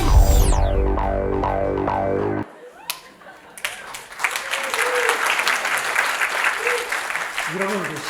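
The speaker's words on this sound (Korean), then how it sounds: "박수 치죠" At a documentary pitching event in Incheon, someone speaks briefly, then after a short pause an audience breaks into steady, sustained clapping that fills the room until the end.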